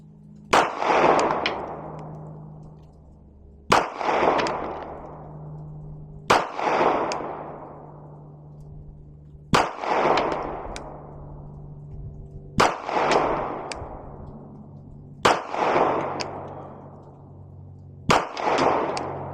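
Handgun shots, a Sig P365 FUSE or Glock 45, fired at a paper target at about 11 paces: seven sharp, loud reports spaced roughly three seconds apart, each with a short echoing decay, and no talking.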